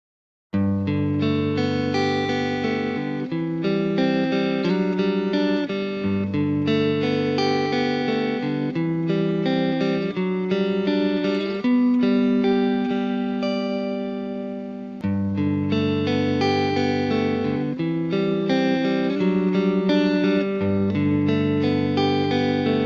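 Electric guitar through an amp, strummed chords and picked notes ringing in repeated phrases, clean and loud throughout.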